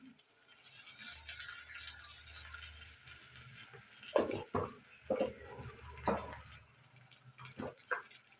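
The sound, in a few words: tomato pieces and dal frying and being stirred in pan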